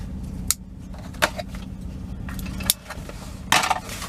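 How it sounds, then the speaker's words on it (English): Packing tape on an Omnitracs ELD package gets cut open, a few sharp scraping snips and tears spaced over a few seconds against steady low background hum, close by, with no one speaking. "I gotta cut the tape here"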